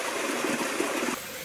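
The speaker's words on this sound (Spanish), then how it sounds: "Ya venga agua a gotear." Spring water trickling out of a small hollow in the ground on an abandoned farm, a steady close-up wash of running water that softens abruptly near the end.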